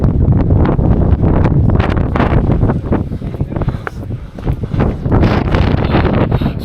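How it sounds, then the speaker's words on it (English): Strong wind buffeting the microphone on an exposed hillside in the Peak District near Ladybower Reservoir, a loud continuous roar with gusty surges throughout, no voices. "It's a windy one, mate."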